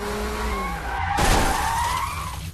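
Racing video game cars skid with long tire squeals and a sudden burst of crash noise in the middle, followed by continued sliding and engine whine, fairly close and without voices.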